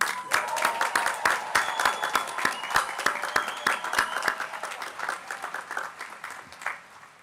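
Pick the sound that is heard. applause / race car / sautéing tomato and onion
applause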